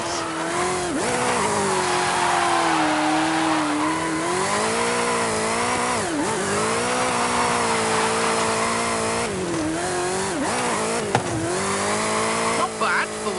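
A 2015 Ford Mustang GT engine roars continuously in Forza Horizon 5, revving up and down through gear shifts with throaty rises and quick dips, loud and close, with occasional tire squeal.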